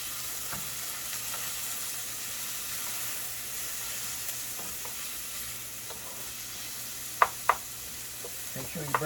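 Chopped onion fries in a pan in a home kitchen while spinach quiche is being made, a steady close sizzle with occasional scrape and stir knocks near the end.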